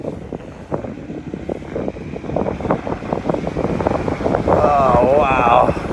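A Zero 10x electric scooter rides fast, with strong wind noise rushing across the microphone throughout and a faint motor whine rising near the end, under a rider's excited exclamations.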